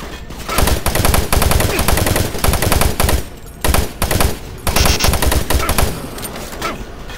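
Rapid, continuous gunfire from the 2004 video game Doom 3 fills the whole stretch in loud, dense bursts with only brief dips between volleys.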